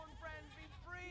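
Goats bleat in a TV show with short, wavering cries mixed among overlapping talk, all at a low, faint level.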